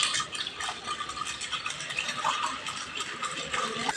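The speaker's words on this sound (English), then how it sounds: "this solution pour in ice. And it continuously stir for 10 to 15 minutes." A reaction solution in a lab synthesis of m-nitroacetophenone from acetophenone, poured into ice and stirred, gives a steady close scraping, rattling swish that runs without pause and without any talk.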